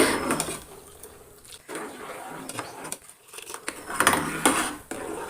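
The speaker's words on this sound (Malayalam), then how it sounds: "അപ്പോൾ ഇതൊന്ന് മിക്സ് ചെയ്ത് 1 മിനിറ്റ് ഇങ്ങനെ ഇളക്കി എടുത്താൽ മതി." A spoon stirs a custard drink mixture in a pan, scraping and clinking against the metal in uneven bursts, close and fairly loud, with some quieter pauses between strokes.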